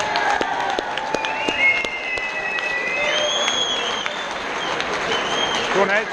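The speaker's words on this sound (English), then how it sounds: "please, a huge round of applause to both boxers in that contest" Audience applause and cheering for both boxers after a bout at a charity boxing event: steady dense clapping with whistles and shouted cheers rising over it, sustained loudly throughout.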